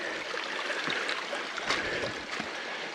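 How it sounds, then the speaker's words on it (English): A creek rushes steadily across a forest hiking trail on the Bear Hair Gap Trail, a close, continuous wash of flowing water with no voices. "We got to get across this creek"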